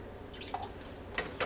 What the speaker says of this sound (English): I'm going to give a little splash of milk.